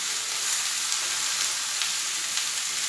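Potatoes and onions with turmeric sizzle steadily in a hot pan, a constant close hiss of oil with no talk.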